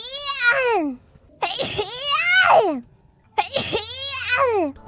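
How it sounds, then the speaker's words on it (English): Three high, squeaky sneezes from a woman, each a drawn-out falling cry, close and loud with short silent gaps between them. "She's gonna sneeze."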